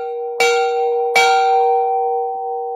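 A bell rung for a charity auction gives two loud, close strikes, each a bright clang followed by a long, steady humming ring that fades slowly, with no talk over it.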